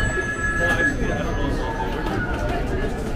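A telephone rings amid noisy chaos inside a tourist attraction on Clifton Hill at Niagara Falls, a steady electronic ring behind crowd babble with a person talking over it.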